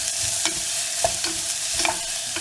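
Curry leaves frying in hot oil in a pan for wheat upma, with a steady sizzle and several soft stirring scrapes spaced through the clip; no voices.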